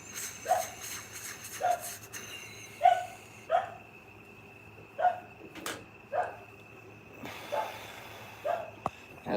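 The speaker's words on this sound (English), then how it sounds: "if you hear the dog in the background" A dog barks in the background of an indoor room, single muffled barks repeating roughly every half second to second, moderately distant and fairly faint against quiet surroundings.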